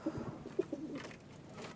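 Racing pigeons in a breeding section give a few soft, low coos, brief and close, followed by faint rustling.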